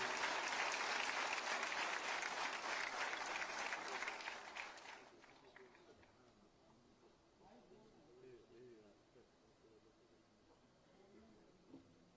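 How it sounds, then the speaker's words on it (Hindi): Loud, dense applause fills a police department ceremony hall for about four seconds, then fades into quieter crowd murmur and scattered talk. "जोरदार तालियों के प्रणाम निवेदित करते हुए"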